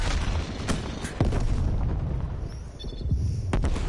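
Grenade blast in Call of Duty Cold War multiplayer, a loud booming impact amid ongoing gunfire and explosion noise, with several sharp bursts and dense rumble throughout.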